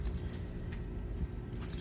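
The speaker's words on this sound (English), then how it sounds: "I got the camper keys for this hitch lock here." Camper keys for a hitch lock jangle up close in a steady metallic rattle with a few brighter clinks, against a low rumbling background, with no talking.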